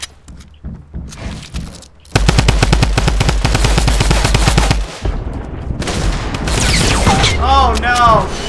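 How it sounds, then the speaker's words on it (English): Automatic gunfire in the Fortnite video game rattles out in a loud, rapid, sustained burst lasting a couple of seconds, followed by more scattered shots and clatter, with voices chattering over it. "And they're shooting down at you"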